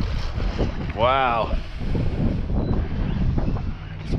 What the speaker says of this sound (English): It's windy enough today.